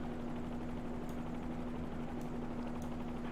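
Bell 47G helicopter engine in Microsoft Flight Simulator, a steady low drone with a constant hum and faint rhythmic rotor chop, quiet and unbroken with no talk.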